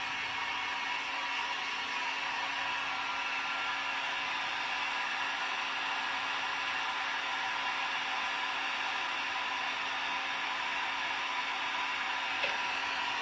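A blow dryer runs steadily at a dog show, a constant close whooshing roar with an even hum that holds for the whole stretch without change.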